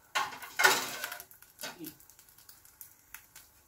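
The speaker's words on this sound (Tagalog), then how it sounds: "ilagay ko siya sa plato" Dishes and cutlery clatter as omelette rice is set onto a plate, with a burst of clinks near the start, then lighter scattered taps fading out, with brief talk.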